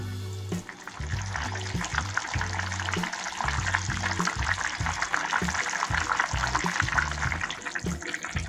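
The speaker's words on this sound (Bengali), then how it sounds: "এবার ঢাকা দিয়ে আরো 2 মিনিট ফোটাও।" Vegetable fish curry boiling in a covered pot, a constant loud bubbling and sizzling with a rapid, uneven rumbling pulse beneath, close by and with no voices.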